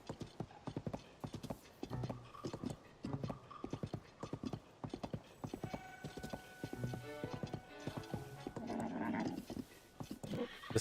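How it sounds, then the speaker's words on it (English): A horse in a Zelda video game clip-clops along in a steady, close hoofbeat rhythm, then gives a whinny near the end over the continuing steps. "the horse got uneasy"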